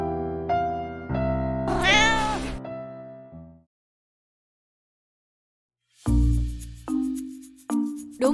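A cartoon cat meows several times, drawn-out and wavering in the first part, then after a pause a few shorter, sharper meows, loud and close with no other sound.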